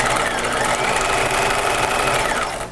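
A sewing machine runs steadily along a long seam of jacket lining, a loud, close, continuous mechanical whir that winds down at the very end.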